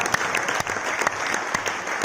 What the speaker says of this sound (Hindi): तो एक बार जोरदार तालियां हमारे R&D टीम के लिए